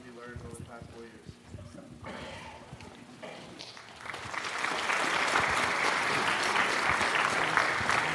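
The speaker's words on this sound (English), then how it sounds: "Please hold your applause just for time's sake until all of the inductees have." At a National Honor Society induction ceremony, a voice with a few scattered sounds gives way to an audience breaking into full, steady applause that swells and stays loud through the second half.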